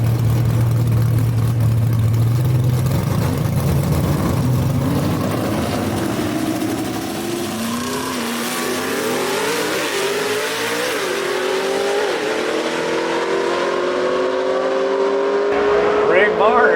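A Dirtman Camaro drag race car at Kil-Kare Dragway revs loudly up close, then its engine note rises steadily as it pulls away. An announcer talks over the engine throughout.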